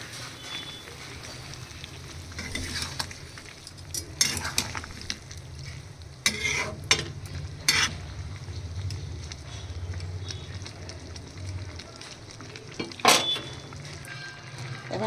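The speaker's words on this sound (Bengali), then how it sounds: "এবার দেখো কেমন টকবক করে ফুটছে" A vegetarian soybean and potato curry bubbles and sizzles in a pan, a steady simmering hiss broken by several sharp clinks and scrapes of a utensil against the pan, with no voices.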